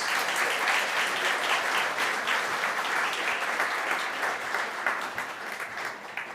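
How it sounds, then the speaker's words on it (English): A conference audience at PyCon AU applauds a speaker after a talk, steady dense clapping from a crowd filling the whole stretch, tapering slightly toward the end. "Can we get a round of applause for Ankur"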